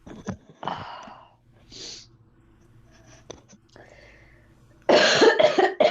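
A few scattered coughs and throat sounds amid breathy noises, ending with a loud burst of harsh, rapid coughing up close.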